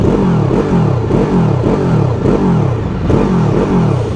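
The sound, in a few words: motorcycle engine revving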